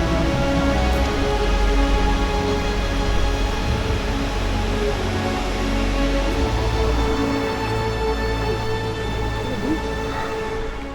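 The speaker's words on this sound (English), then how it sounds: "Quite an assortment of waterfalls today." Waterfall at Gorges State Park, North Carolina, a steady broadband roar of falling water that stays loud and unbroken throughout, with no voices over it.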